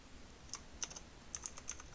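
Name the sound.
typing Python code on a computer keyboard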